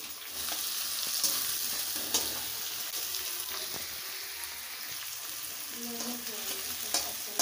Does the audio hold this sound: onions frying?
yes